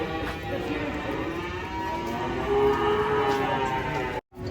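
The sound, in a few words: cow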